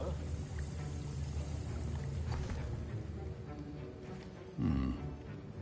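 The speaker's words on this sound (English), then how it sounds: "I see most of you have not forgotten how to stir" A potion cauldron being stirred in the video game Hogwarts Legacy: a faint, steady churning of liquid that continues throughout, with a brief louder swirl near the end.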